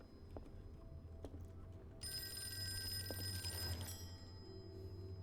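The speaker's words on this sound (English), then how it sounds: "I should answer the phone, I guess." Telephone ringing in the Call of Cthulhu video game, a bright electronic bell tone that starts partway through and holds steadily for about two seconds over a low ambient hum, then fades.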